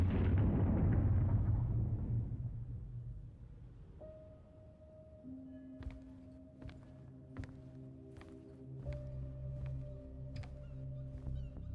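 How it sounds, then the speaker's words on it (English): A flashbang goes off in Silent Hill: Ascension as a loud low boom that decays over a few seconds, followed by a steady ringing tone and scattered faint clicks. "Flashbang."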